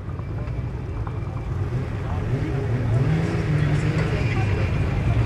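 A 1050 hp VW Golf 3 R30 Turbo drag car at a drag racing event gives a rising engine roar that swells louder over several seconds, heard from a distance under wind noise, while someone talks over it.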